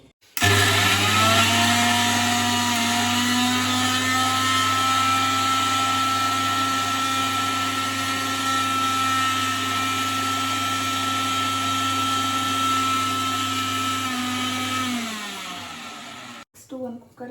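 A kitchen mixer grinder whirs steadily for about fifteen seconds as it grinds coriander, mint, ginger and garlic, then winds down and stops, with a couple of brief knocks afterward.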